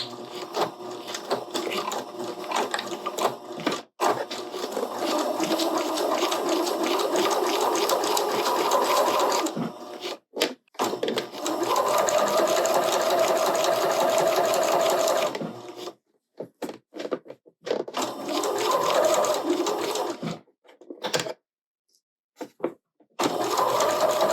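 Sewing machine stitching quilt binding with backstitches, bursts of fast motor-driven stitching broken by short pauses and brief stops as the stitch direction reverses, close and clear with no talking.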